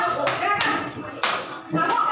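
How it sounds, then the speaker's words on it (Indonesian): Children facing each other in pairs clap hands together in a classroom, several sharp bursts of clapping spaced irregularly, with a murmur of young voices in the background. "Silakan kalian untuk berpasangan tepuk."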